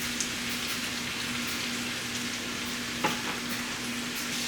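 Green beans frying in a little butter in a pan, a steady soft sizzle with faint crackles throughout and one small clink partway, no talking.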